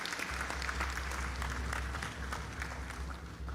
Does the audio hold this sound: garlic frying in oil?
no